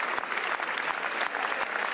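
Sustained applause fills the French National Assembly chamber, dense clapping from many hands that runs loud and steady throughout.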